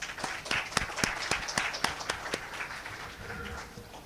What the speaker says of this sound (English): So please have a round of applause for them.